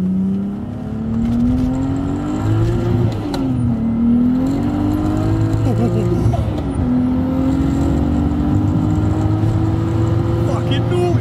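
A 2JZ-swapped BMW 525D with a 604 bhp build revs hard, its loud engine rising and falling in sustained sweeps, close and dominant throughout with a tonal whine on top.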